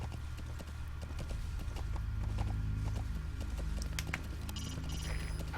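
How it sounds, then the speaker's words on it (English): Horse hooves clip-clop at a steady walking rhythm in the video game Metal Gear Solid V, the footfalls close and continuous over a low ambient rumble. "Hiding on horseback allows you to stay out of sight even while on the move."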